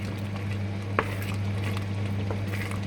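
A spoon stirs Easter Sunday German goulash in a pot over a low flame, making soft, steady scraping and stirring noise with one sharper clink near the start, all set against a constant low hum.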